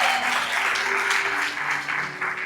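A church congregation applauds together in a steady, dense wash of clapping that holds for the full stretch, with faint sustained tones lingering underneath.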